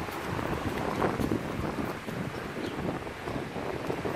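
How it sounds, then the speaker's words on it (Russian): Gusty wind buffets the microphone over a steady wash of sea waves on a beach in Cyprus, loud and continuous with no voices. "Какая красота. Ветер, волны."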